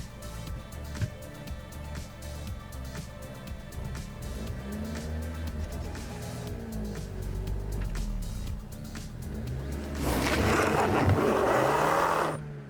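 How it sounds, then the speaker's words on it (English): A Suzuki Vitara 4x4 stuck off-road revs its engine in rising and falling surges, then builds to a louder gritty burst of spinning wheels and scraping toward the end. "The car ran a small distance and was stuck again in a similar fashion."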